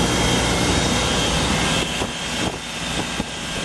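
A 2005 Sea Ray 240 Sundeck motorboat's loud engine drones steadily throughout at sea with a constant mechanical hum, dipping slightly toward the end; no voices.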